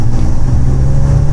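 Steady, loud engine drone from a BMW 335i with its turbocharger under boost, heard from inside the car with a window cracked open, a low rumble holding constant with faint whooshing air above it.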